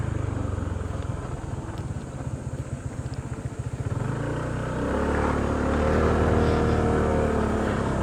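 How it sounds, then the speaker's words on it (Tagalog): A motorcycle engine labouring on a steep dead-end trail, a low rapid idle thump that swells into a louder, strained revving roar midway and stays heavy to the end. "may hirapan din ang motor dyan"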